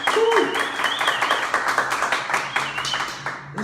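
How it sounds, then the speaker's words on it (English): Small audience clapping hands at a live pub music show, a short burst of fairly close applause that quickly thins out into scattered claps. "the sound of one hand or two hands clapping"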